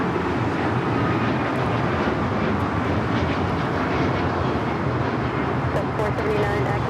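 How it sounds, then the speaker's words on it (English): An Alaska Airlines Boeing 737 MAX 9 taking off at LAX gives a steady, moderately loud broadband jet rumble with no break, a voice faintly present in the background. "452 taking off to Zihuatanejo on the MAX 9"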